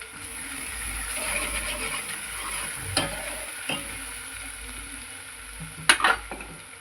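Cumin and mustard seeds sizzle and crackle in hot oil with a soft, steady frying hiss, punctuated by a couple of sharp pops and light stirring clinks.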